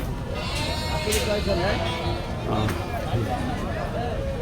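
Goats bleat in short wavering cries amid the crowd babble of the Gabtoli livestock market in Mirpur, with people talking close by over the animals.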